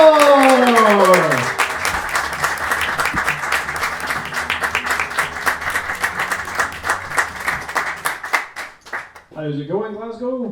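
Dense applause and clapping from a comedy-club audience in Glasgow greeting a stand-up comedian onto the stage, steady and loud for about eight seconds before fading, followed by a brief voice.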